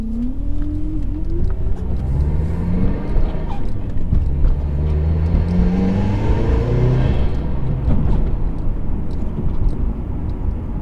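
Steady engine roar from a 2005 Subaru Legacy GT with an EJ20Y engine and aftermarket intake, with rising and falling whine tones like a turbo spooling up and down, continuous and loud throughout.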